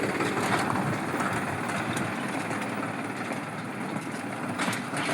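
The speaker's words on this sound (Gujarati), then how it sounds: "જો જાય ટ્રેક્ટર" A tractor heading downhill to load goods, its engine a steady low rumbling drone that holds throughout, moderately loud and with no talking.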